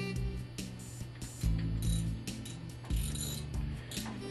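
A wrench tightens two bolts on a pump diaphragm housing, producing soft scraping and ratcheting metal clicks in short, repeated strokes, close and quiet, with no talk.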